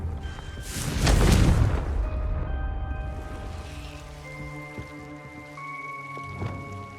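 A Confringo fire spell from Hogwarts Legacy bursts with a deep, booming explosion that swells and then crackles away into a lingering rumble and a faint tonal hum.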